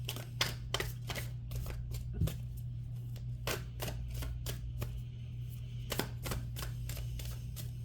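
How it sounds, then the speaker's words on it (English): Tarot cards shuffled and drawn, a run of quick riffling card snaps and taps in irregular bursts, close and fairly quiet over a steady low hum. "So let's pull a couple more cards."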